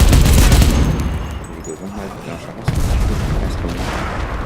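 A sustained World War II battle rages in the video game Enlisted as a machine gun fires continuously among dense booms and distant explosions. The noise is loud and unbroken, with a sharp burst near the middle.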